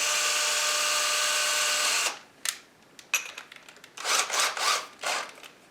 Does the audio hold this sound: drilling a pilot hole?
yes